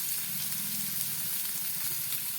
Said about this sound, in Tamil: மீனை வறுத்தரலாம்.